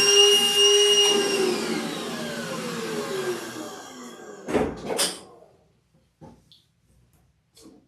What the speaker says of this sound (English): Just gonna get my vacuum out.